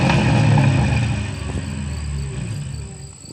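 Exhaust rumble from a revving engine, either a 1998 Jeep Laredo 5.2 or a 1999 Mercury Grand Marquis 4.6, loud and close at first, then settling into a steadier idle-like drone.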